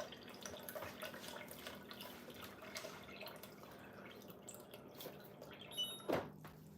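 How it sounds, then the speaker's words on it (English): Water from a refrigerator's automatic dispenser runs into a container in a home kitchen, a steady, soft pouring and trickling that rises briefly near the end, with no talking over it. "I'm using my automatic water dispenser on my fridge."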